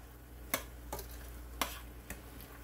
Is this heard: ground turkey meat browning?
yes